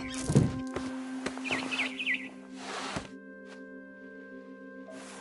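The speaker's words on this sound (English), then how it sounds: "Then I heard chirping outside my window. It was a barn swallow going back to her nest." A barn swallow chirping outside a window in a video game, a few short high twittering calls among soft thumps and a steady tonal hum, fairly quiet.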